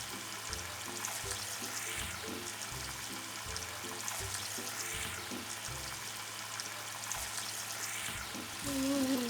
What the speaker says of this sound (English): There's a bubbling noise.